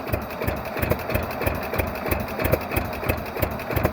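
A 1948 John Deere B tractor engine running on propane idles steadily and loudly up close, its slow, even chugging pulse continuing throughout with no talk.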